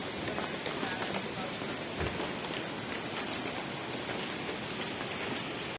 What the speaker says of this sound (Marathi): आता पाऊस बघा